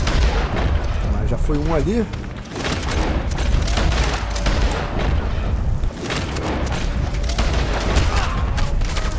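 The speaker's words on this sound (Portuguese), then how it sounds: "Caramba, eles atiram muito" Dense, rapid gunfire and booming shots from enemies in a video game, near and loud throughout, with someone talking over the barrage.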